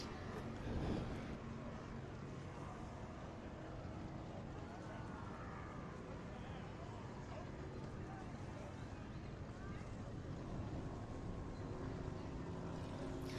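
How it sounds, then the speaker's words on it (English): A 28-foot Challenger powerboat with twin 377 small block Chevy engines at the LOTO Powerfest on Lake of the Ozarks, Missouri, a steady distant engine drone under continuous announcer talk. "That's a 28-foot Challenger with twin 377 small block Chevys"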